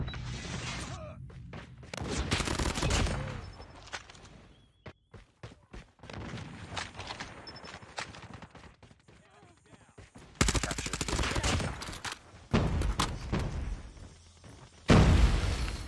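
Rapid bursts of RPD machine gun fire in a first-person shooter match, loud and repeated in several clusters with quieter gaps between them, under occasional game sounds.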